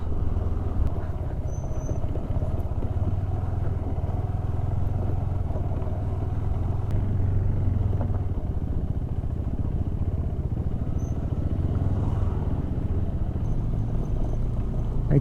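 A motorcycle engine drones steadily and loudly throughout on a rough, stony mountain road in Nepal, with rumbling, rattling road noise and occasional clatter, no talking.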